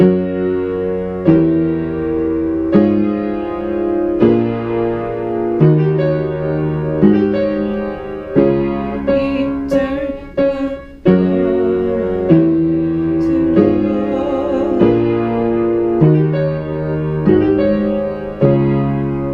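Piano chords played one after another at a steady, unhurried pace, each ringing out before the next, with no voices.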